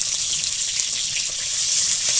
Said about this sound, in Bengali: মাছ ভাজাটা প্রায় অর্ধেক হয়ে গেছে